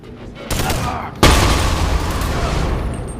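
A shotgun fires in a video game with a sudden loud boom followed by a lingering rumbling tail, preceded by a softer burst of action sound.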